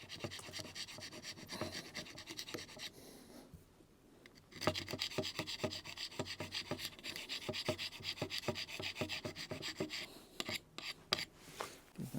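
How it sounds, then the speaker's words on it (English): A scraper works limescale off a boat's underwater metal surface near the anode, giving faint, rapid rasping strokes that run almost continuously for several seconds after a short pause. "there's just a little bit of limescale left over there which I will scrape off."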